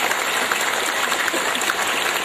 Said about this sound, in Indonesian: tepuk tangan untuk Abah Mali